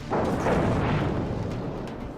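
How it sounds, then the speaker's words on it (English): A submarine fires torpedoes to port in a naval video game, set off by a deep, loud, rumbling launch boom that swells quickly and then slowly fades over two seconds, with no talk. "I'll go down just so I can get some torpedoes off before it blows me again. There we go. Torpedoes to port."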